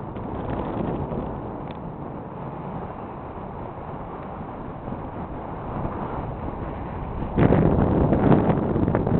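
Wind at about 14 miles per hour buffets a microphone outdoors as a steady broad roar, swelling stronger near the end, with no talk.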